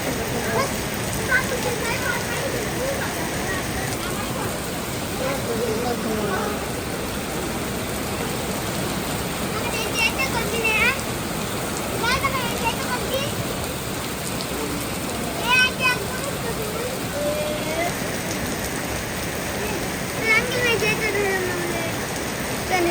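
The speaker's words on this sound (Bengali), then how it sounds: "বৃষ্টির পানি তো আপনারা দেখতেই পাচ্ছেন।" Heavy rain falls steadily in a continuous dense hiss on surfaces, with occasional faint voices and chirps in the background throughout.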